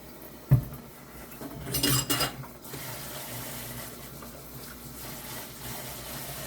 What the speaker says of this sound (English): I'm washing my cutting board because I cut chicken on it